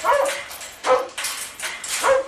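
A guard dog barks and yips in three sharp, loud bursts close by, with a rough whimpering edge between them and no talking.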